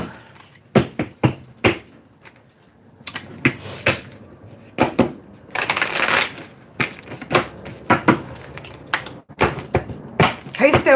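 Cards are shuffled in repeated bursts of sharp riffling and tapping, close to the microphone, with brief pauses between rounds.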